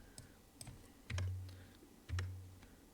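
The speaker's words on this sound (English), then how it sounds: "I'll type what I have highlighted" Keys clack on a computer keyboard, a handful of soft scattered taps followed by two louder thumping presses about a second apart, close by in a quiet room, with no voices.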